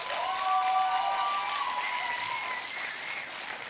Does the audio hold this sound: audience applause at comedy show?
yes